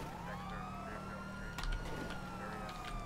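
Ambulance siren in GTA 5, a steady wailing tone sweeping up and down throughout, moderately loud over a constant engine and traffic rumble, with a brief thump partway through.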